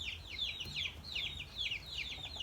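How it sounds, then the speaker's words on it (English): Birds chirp in repeated descending bursts on a morning outdoors, a fowl clucking faintly among them, steady and moderately near over low background rumble. "Birds in the morning, you can hear that."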